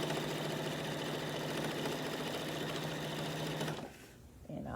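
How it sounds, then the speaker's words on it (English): A sewing machine stitches binding onto a quilt in a fast, even mechanical whir that runs loud and steady, then stops abruptly near the end. "And I'm just sewing on the fabric. Just sewing down the fabric."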